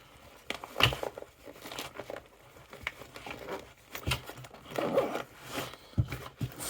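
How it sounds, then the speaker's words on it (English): Several quick zips on a fabric roll-up tool set, short rasping pulls separated by rustling and crinkling as the bag is handled close by. "Four zips."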